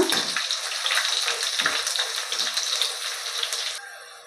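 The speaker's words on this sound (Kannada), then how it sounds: "ಸ್ವಲ್ಪ ಚೆನ್ನಾಗಿ ಫ್ರೈ ಮಾಡ್ಕೊಳ್ಳೋಣ." Chopped onion and three green chilies frying in oil for vegetable pulao, a dense continuous sizzle with stirring, close and loud, stopping near the end.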